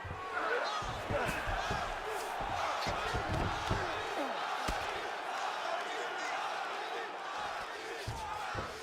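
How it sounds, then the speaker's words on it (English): Crowd in a UFC 5 video game bout between Khabib Nurmagomedov and Tony Ferguson roars steadily throughout, a dense arena noise with scattered thumps and swells. "huge pop from the crowd as the fighters get back up to their feet"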